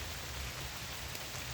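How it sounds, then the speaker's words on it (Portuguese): Rain falls steadily beside a creek in Curitiba, a dense, even hiss of drops with no voices and no break over the short stretch. "assim como essa chuva tem caído aqui em Curitiba hoje"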